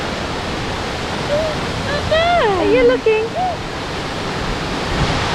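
A waterfall rushes in a steady, loud roar, with a person briefly speaking over it.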